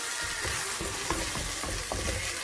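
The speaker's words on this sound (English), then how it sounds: "And now I mix this in very well and thoroughly" Chicken dopiaza being stirred and fried in a pan, a steady close sizzle with repeated scraping stir strokes throughout, no voices.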